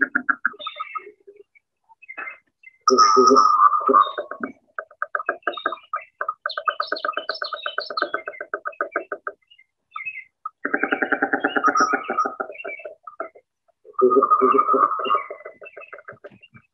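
Throaty calls of a male American robin greeting an arriving female, given in repeated bursts and short chattering phrases with brief pauses, fairly close and clear against a quiet background, no talking.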